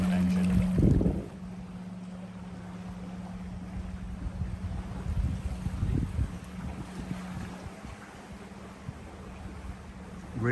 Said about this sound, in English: Really all I can hear is the water.